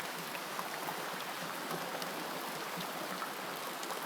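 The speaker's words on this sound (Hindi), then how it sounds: "बाहर बहुत बारिश है।" Heavy rain falling outside in a Hindi story scene, a steady dense hiss of downpour with no breaks, moderately loud and alone, no talking.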